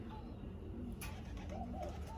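A grizzle racing pigeon of Gerard Koopman bloodline, kept alone in a separate loft section, gives soft, low coos that sound faint and a little distant against a quiet background.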